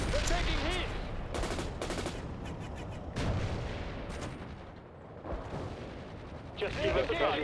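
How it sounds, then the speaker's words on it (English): Soviet infantry gunfire in the World in Conflict wargame: bursts of rifle and machine-gun fire crackling in uneven volleys, with heavier booms between and voices talking over parts of it. "Soviet infantry firing down."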